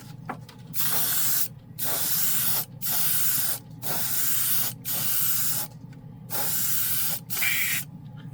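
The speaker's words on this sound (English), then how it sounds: "what's good about a high pressure compressor is you can spray" Airbrush spray bursts hissing in repeated pulses of about a second each, separated by short pauses, with a steady low hum from a Vevor 2-gallon high-pressure air compressor running underneath.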